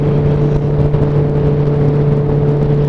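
Motorcycle engine with a straight-through exhaust, steady loud close hum with a strong low tone and no clear rev changes, running alone without talk.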